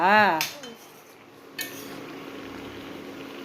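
Metal pots and dishes clank and rattle up close, a loud clatter at the start followed by quieter scraping and a sharp knock.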